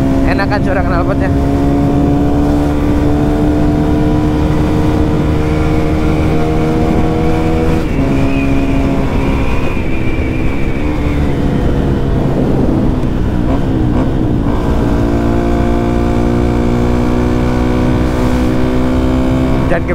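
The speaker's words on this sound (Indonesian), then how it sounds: "Karakter knalpotnya suaranya ngebas. Lebih ngebas dari dulu yang pernah gue pakai." Motorcycle fitted with a Radamel F4 titanium exhaust revving loudly and continuously up close, a deep bassy drone rising and falling in pitch through several throttle swells, with a person talking over it.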